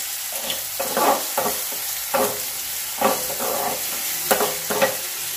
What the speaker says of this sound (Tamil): இதை நல்லா வதக்கிக்கலாம். இது நல்லா குக் ஆகட்டும்.